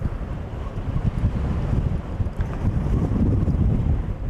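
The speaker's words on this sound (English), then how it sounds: "I'll be anxious to see if that wind shows up on the sound." Strong wind buffets the microphone throughout a ride through Dali, China, at about 6,500 feet, a steady loud low rumble with gusty surges and no talk.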